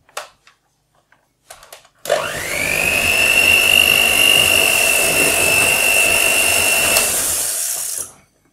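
An electric hand mixer beats icing sugar and butter into cupcake frosting, whirring steadily and loudly for about six seconds after a few light clicks, then winding down.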